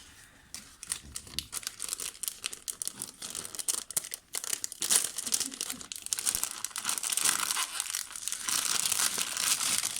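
A plastic packet being torn open by hand, with continuous crinkling and tearing bursts that grow louder and denser toward the end, close to the microphone with no talking.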